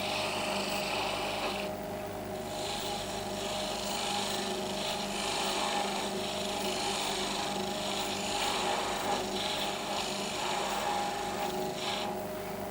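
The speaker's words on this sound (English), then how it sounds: "we're not using the skew chisel as a skew chisel, but purely as a parting off tool. to get rid of waste wood" A skew chisel parting off waste wood from a spindle turning on a lathe, giving a continuous scraping, rasping cut over the steady hum of the machine for the whole stretch, with no talking.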